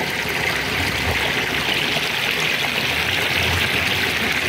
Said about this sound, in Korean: 이 정겨운 물소리와 함께